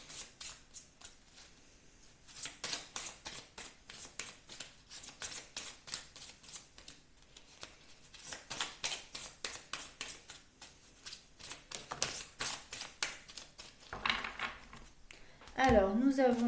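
Tarot cards being shuffled and drawn, a run of quick, crisp riffling flutters and snaps close by, with a louder rustle at the end.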